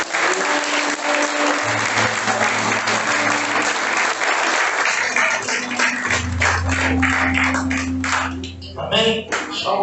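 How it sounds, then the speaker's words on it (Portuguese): A church congregation applauding during a service, loud sustained clapping mixed with low hum and deep tones, with a voice speaking over it and the clapping thinning out toward the end. "Você pode aplaudir e exaltar."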